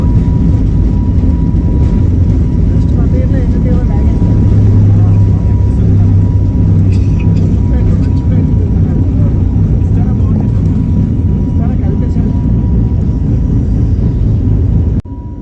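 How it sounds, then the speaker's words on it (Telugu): An airplane takes off from the runway at Hyderabad, heard from inside the cabin as a loud, steady engine roar and low rumble that holds for the whole stretch, with a voice talking over it. "మా ఫ్లైట్ ఇప్పుడే రన్వే మీద నుంచి టేక్ ఆఫ్ అవ్వడానికి రెడీగా ఉంది"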